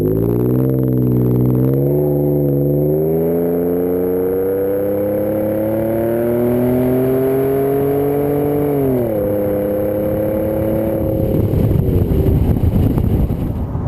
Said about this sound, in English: You're not going to make anyone angry with this exhaust.